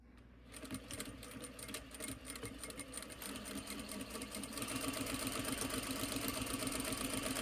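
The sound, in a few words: sewing machine back stitching fabric seam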